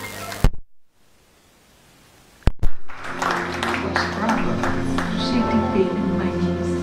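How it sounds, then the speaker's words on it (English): A church congregation at a Dubai miracle festival breaks into clapping and cheering after a couple of isolated sharp claps and a brief pause, building into sustained applause mixed with voices and music. "Let's clap our hands and give him praise."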